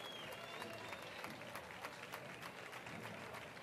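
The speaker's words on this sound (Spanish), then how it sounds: "Un aplauso para ella." Applause from an audience at an awards ceremony in Jerez as a rally driver is called to the stage, a continuous, even wash of clapping heard faint and distant.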